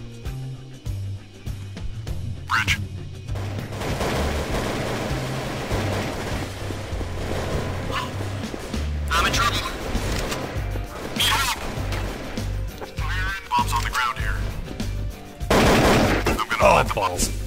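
Gunfire in the shooter game Counter-Strike: Source, with bursts of shots and crashes spread across the clip over steady game music and background noise, with players talking throughout.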